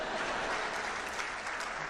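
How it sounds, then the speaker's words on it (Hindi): Audience applause, a steady wash of many hands clapping at moderate distance, fairly quiet and continuous throughout the short burst. "अब आपकी तालियां उठेंगी।"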